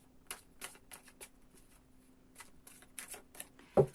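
Gilded Tarot cards are shuffled in a run of soft, irregular riffles and slaps over a faint hum, ending with a sharper tap.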